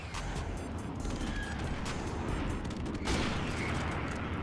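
Dense airstrike explosions and gunfire in a shooter video game, a loud continuous barrage with rapid cracks and a heavier blast near the end.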